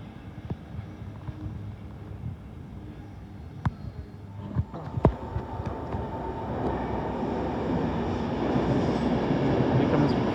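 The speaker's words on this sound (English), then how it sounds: "This is 350136 City of Coventry arriving into Euston." Class 350 train 350136 arriving into Euston, a rumbling approach that grows gradually louder, with occasional clanks and squeaks over steady rail noise.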